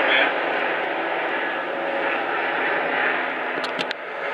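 An aircraft flies low overhead near Reno, a loud steady engine roar filling the whole stretch and fading slightly at the end, with faint background noises.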